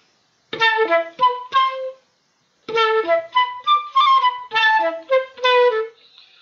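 A tango phrase in a 3-2-3 rhythmic grouping, from a Piazzolla-style study, is played as clear, plucked-sounding notes in two accented bursts separated by a short pause, close and alone.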